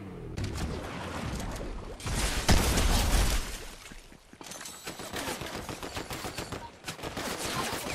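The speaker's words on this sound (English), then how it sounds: "someone's shooting your sister" Gunfire in the Fortnite video game, with dense bursts of rapid shots and automatic fire running almost continuously, loudest in a heavy volley around the middle, with only faint talk underneath.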